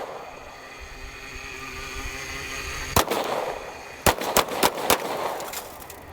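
Glock 19 9mm pistol firing 115-grain full metal jacket rounds at a car outdoors, one sharp shot followed after a pause by a quick string of four more, loud and close over steady wind and background hum.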